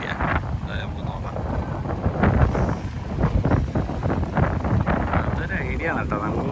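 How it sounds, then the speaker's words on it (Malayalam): Strong seaside wind buffets the microphone at a boat launching spot, a steady, loud broadband rush with gusts, while voices talk over it. "നല്ല കാറ്റുണ്ട് കേട്ടാ"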